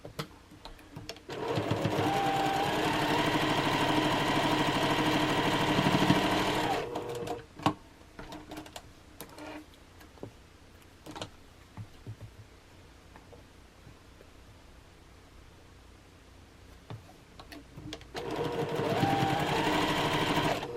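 A sewing machine stitching quilt block seams, two steady close runs of fast mechanical whirring at the start and end with quieter handling rustle and clicks between.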